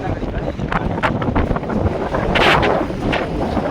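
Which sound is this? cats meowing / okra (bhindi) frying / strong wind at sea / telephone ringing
strong wind at sea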